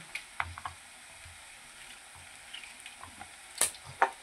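Onion sautéing in a pan for a homestyle cashew and potato bhaji, a faint steady sizzle with a few soft scraping stirs and light clinks of a spoon against the pan.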